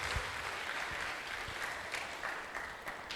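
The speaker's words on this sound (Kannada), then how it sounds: "ಅವರಿಗೆ ಜೋರಾಗಿ ಒಂದು ಚಪ್ಪಾಳೆ ತಟ್ಟಿ" An audience gives a round of applause at a church gathering, a dense steady patter of clapping hands that carries evenly through the moment at modest volume, with no speech over it.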